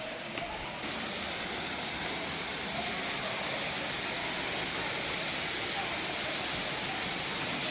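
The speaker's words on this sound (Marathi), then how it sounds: "धबधबा बघा एकदा किती छान वाटत होता" Waterfall flowing strongly after heavy rain at a temple site, a continuous even rushing hiss without a break, fairly distant and unchanging throughout.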